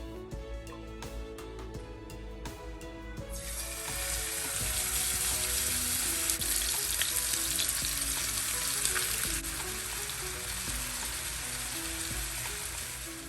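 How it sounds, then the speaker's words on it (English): Swai fish fillets dropped into hot oil burst into a loud, steady sizzle that rises sharply after a few seconds of quieter frying and continues close and unbroken. "then start to fry the fish."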